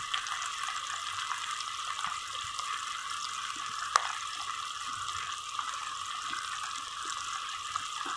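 A steady, soft stream of water pours continuously into a cooking pan, with a faint clink partway through and no talking.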